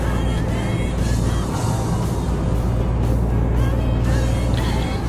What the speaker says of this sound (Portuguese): Olha o carro vivo voando aqui do meu lado.